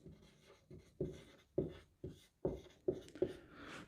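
Pen strokes scratch out a maths solution on paper or board during a class 10 lesson, a run of short, fairly close taps and scrapes coming in an uneven rhythm with no talk.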